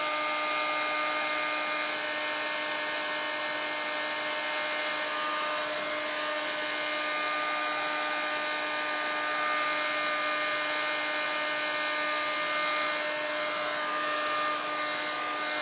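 A heat gun warming coiled decoupage trims gives off a loud, steady whirring hiss with a constant motor tone, close and unbroken throughout.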